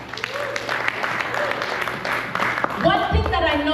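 An audience at a presentation claps for a speaker, with a moderate spread of applause running beneath a voice talking throughout.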